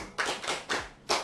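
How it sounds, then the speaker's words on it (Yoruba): Four separate handclaps ring out close and crisp at an uneven, slow pace, with short silences between them. "ẹ pàtẹ́wọ́ fún un"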